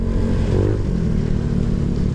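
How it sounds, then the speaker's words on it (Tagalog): A Honda Click 125/150 scooter fitted with a Z5 camshaft runs steadily nearby, a loud, even low engine drone with a slight clattering edge and no voices. "Yung tunog ng motor ko parang"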